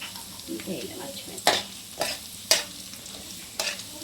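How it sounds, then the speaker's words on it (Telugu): Chana dal, mustard seeds, cumin and dry red chillies fry in hot oil for a mango pulihora tempering, giving a faint sizzle with several sharp crackles and pops spaced about a second apart, close and quiet. "ఆయిల్లో మనం పోపుకి శనగపప్పు, ఆవాలు, జీలకర్ర, ఎండుమిర్చి,"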